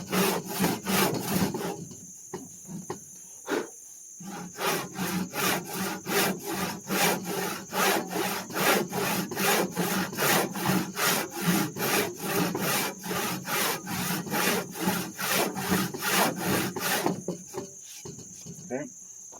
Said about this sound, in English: I just come in here on that kerf, cut right on that line.